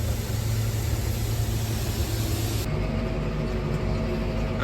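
Clean Starbuck wheat with very little chaff pours out of a grain bin, making a dense, continuous rushing hiss that changes to a duller, lower tone about halfway through.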